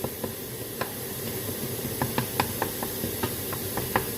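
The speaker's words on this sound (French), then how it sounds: "Il faut laisser mijoter" Bolognese sauce simmers in a pot with a steady soft hiss and sizzle, broken by scattered small pops and bubbles, close and fairly quiet with no one talking.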